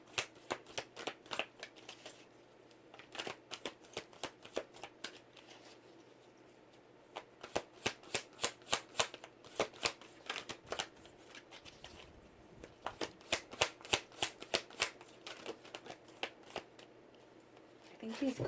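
An oracle card deck shuffled by hand, rapid bursts of crisp riffling and slapping card sounds coming in clusters with short pauses between, close and fairly quiet, while a person talks at moments.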